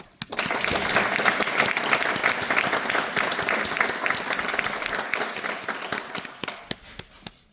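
Audience applause rings out to welcome a trombone octet from St. Olaf College at a concert, a dense, sustained clapping that swells quickly, holds steady for several seconds, then thins to scattered claps.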